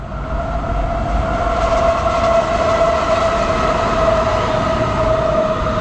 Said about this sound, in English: Okay, and here comes a train.